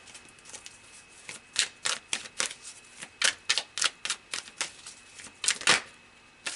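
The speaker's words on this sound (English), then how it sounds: "let's pull some more cards" Tarot cards being shuffled and drawn during a reading: a quiet run of crisp riffling and slapping bursts, some twenty short rustles in uneven rhythm, close by with no talking.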